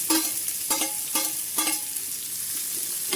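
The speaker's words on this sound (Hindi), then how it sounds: "प्याज डालने के बाद इनको चला लेंगे हम" Onions and chopped green chillies sizzle in a pan while being stirred, with a steady frying hiss and several clear scraping strokes of the spoon near the start, fading to a quieter sizzle.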